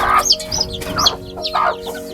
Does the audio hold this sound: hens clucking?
yes